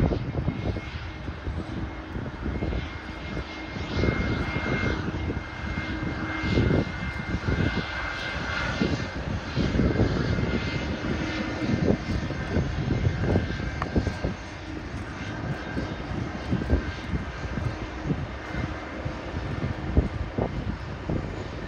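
An airliner takes off from Sydney airport with a sustained, loud jet-engine roar that swells and holds steadily for over twenty seconds, mixed with some wind buffeting.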